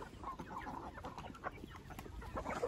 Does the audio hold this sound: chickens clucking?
yes